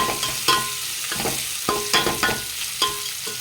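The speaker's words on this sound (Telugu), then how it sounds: "ఆనియన్స్ బాగా ఫ్రై చేసుకుందాం" Onions frying in hot oil in a pan, a steady sizzle broken by repeated scraping stirs of a spoon, loud and close, with no voices.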